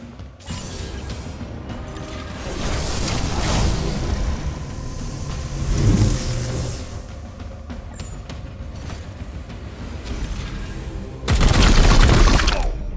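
Lancers firing in Warhammer 40k: Chaos Gate - Daemonhunters, a loud mechanical barrage with clanking, rushing bursts that swells midway and erupts in a final heavy volley near the end.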